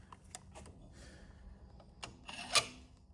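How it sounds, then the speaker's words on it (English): A screwdriver tip scrapes metal flakes out of the axle splines in the rear end of an EZGO golf cart, giving quiet, intermittent rasping scrapes close by, with a sharper, louder scrape near the end. "You'll take the screwdriver. You want to just clean out your splines."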